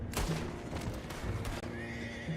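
A horse whinnies loudly over a busy game soundscape of hooves and ambient noise, with a second shorter neigh near the end.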